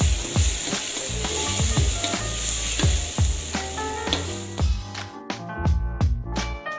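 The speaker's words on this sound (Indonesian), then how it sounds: "Dan kita tumis sampai warnanya menguning dan juga sampai kecium harum" Spice paste sautéing in a pan for beef kalio, giving a steady close sizzle with repeated scraping and knocking strokes from stirring. Background music plays throughout.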